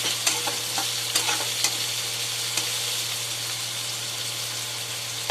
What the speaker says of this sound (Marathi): आता थोडा कांदा गुलाबी होईपर्यंत परतून घेऊ.